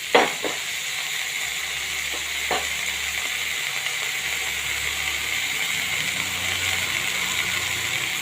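Paneer pieces shallow-fry in a pan with a steady, bright sizzle throughout, punctuated by a few small clicks and taps from turning the pieces.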